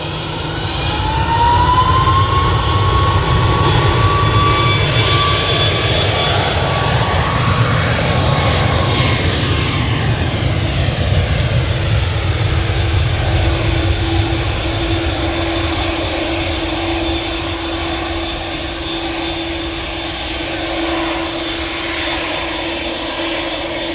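A jet airliner at Manchester Airport roars loudly and steadily, with a whining engine tone that rises and then falls as it passes, settling into a lower sustained rumble.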